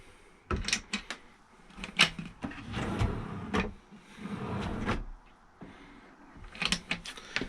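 Several soft-close drawers in a camper van conversion slide and bump shut one after another, soft thuds and rolling scrapes spaced a second or two apart, close by.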